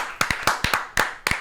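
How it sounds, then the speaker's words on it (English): Six crisp hand claps in an uneven rhythm, close and fairly loud, a single person clapping in a round of applause for Detroit Pistons general manager Troy Weaver after an NBA draft pick. "Round of applause for Troy Weaver."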